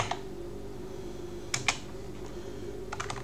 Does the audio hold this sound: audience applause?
no